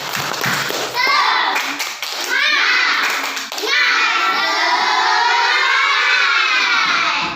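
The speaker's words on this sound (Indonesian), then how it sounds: "kita tepuk semangat dulu" Fourth-grade primary school pupils do a rhythmic spirit clap in class, quick patterned claps with children's voices chanting loudly over them, then a long sustained shout from the group.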